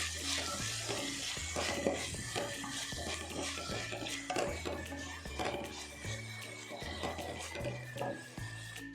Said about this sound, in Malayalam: ഇതെല്ലാം വഴണ്ട് വരുന്ന വരെ നന്നായിട്ട് വഴറ്റിയെടുക്കാം.